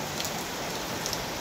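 Heavy, steady rain pours down around a house, a dense continuous hiss of drops on surfaces filling the short stretch with no pauses or voices.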